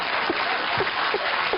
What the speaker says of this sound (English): That sounded like very male applause to me.